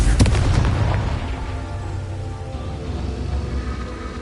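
A Confringo blasting spell explodes in a Hogwarts video game, opening with a loud sharp burst that rolls into a long, dense rumble and crackle sustained at steady volume.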